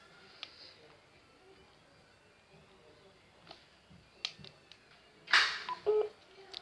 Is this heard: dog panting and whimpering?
no